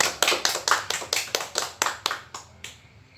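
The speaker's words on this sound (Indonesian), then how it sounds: "Tepuk tangan dulu untuk kelompok 1." A group claps together in a classroom for the first student team before its presentation, a series of about a dozen sharp, evenly spaced claps that thin out toward the end.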